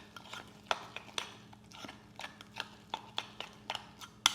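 A spoon stirs protein mug cake batter in a mug, with a quick run of light clinks and scrapes against the ceramic, close and fairly quiet, in an uneven rhythm.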